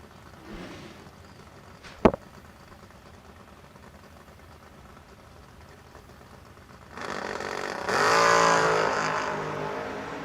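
A 1992 Ford Mustang and a 1979 Camaro at a drag strip, heard as quiet crowd ambience with one sharp crack, then engine roar swelling up and holding loud for the final few seconds.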